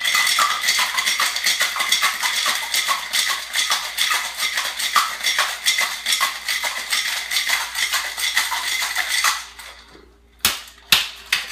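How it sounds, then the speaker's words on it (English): Cocktail shaker packed with ice rattling hard in a steady, continuous rhythm, close and loud, with Angostura bitters among the rum drink's ingredients, ending in a few sharp separate knocks. "Shake over ice."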